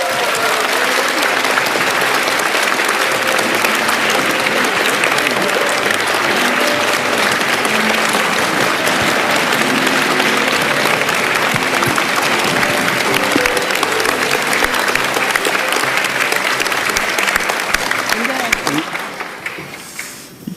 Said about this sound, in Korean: 여러분 큰 박수로 앞으로 모시겠습니다.